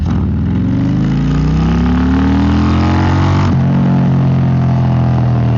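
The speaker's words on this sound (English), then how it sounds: "take a listen to this bike with this exhaust on here from Superlow and the tune" A 2025 Harley-Davidson Road Glide touring bike with a Gen 2 Milwaukee-Eight engine, tuned and fitted with a Superlow exhaust, revs up in one long rising sweep, then drops abruptly and settles into a deep, loud rumble.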